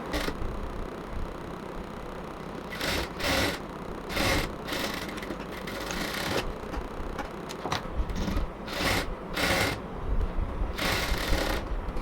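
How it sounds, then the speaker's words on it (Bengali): A sewing machine stitches the side seam of a baby frock, running in short repeated bursts with pauses between them, fairly close and steady. "ঠিক সেমভাবে আমরা এখন এই পাশের সেলাইটাও দিয়ে নেব"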